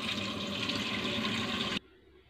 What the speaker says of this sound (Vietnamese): và sau đó ta xả nước vào.